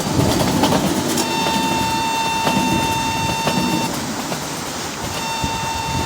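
A simulated train in the Indian Train Simulator game runs steadily at speed, giving a continuous rolling rumble with faint clicking and a few steady high tones throughout.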